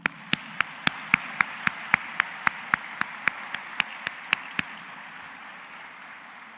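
Steady, evenly spaced claps from what sounds like a single pair of hands, about four per second, crisp and fairly close, fading out over the last couple of seconds against a low background hum, with no talking.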